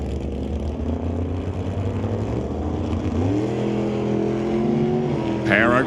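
A Plymouth and a GMC Jimmy launch off the line in a drag race, engines revving hard and climbing in pitch as they accelerate away, with an announcer calling the race over the noise.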